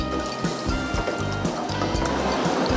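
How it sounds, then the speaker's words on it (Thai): Glass noodles dropping into a pot of hot water with a soft splashing, trickling wash of liquid, heard up close with faint kitchen clatter and a steady background hum. "เราจะเอาวุ้นเส้นลงเลย"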